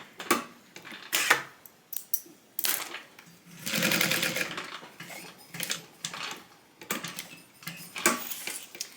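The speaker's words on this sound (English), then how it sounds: "I'm gonna open this up so it's easier to sew around" A sewing machine stitches a zipper into a tote bag panel in short bursts, one longer run in the middle, with clicks and fabric handling between stitches.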